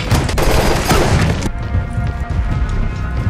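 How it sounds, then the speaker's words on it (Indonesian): Heavy gunfire from a film firefight, a dense, loud burst of overlapping shots and impacts that ends abruptly partway through, leaving quieter rumbling background. "musuh pun tiba-tiba menembak hingga pertempuran pun kemudian terjadi"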